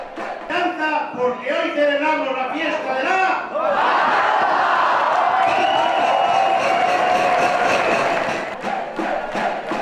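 A large crowd in a huge 700-seat restaurant bursts into loud, sustained applause and cheering after rhythmic chanting, a dense roar building and holding through the space.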